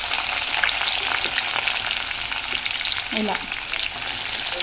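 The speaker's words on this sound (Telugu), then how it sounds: "ఇప్పుడు వచ్చేసి ఇందులో వెల్లుల్లిపాయలు అనేది వేసేసుకుందాం" Garlic frying in a pan for a curry, a steady loud sizzle with stirring scrapes throughout, and a brief voice near the end.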